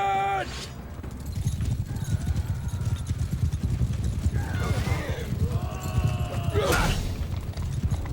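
Galloping hooves and whinnying horses during a cavalry charge in the medieval battle game Mount & Blade II: Bannerlord, hoofbeats pounding steadily throughout under battle din, with a sharp neigh near the end.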